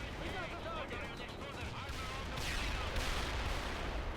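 Gunfire in a war video game with a sniper: dense, continuous shooting and rumbling battle noise throughout, with voices talking over the combat.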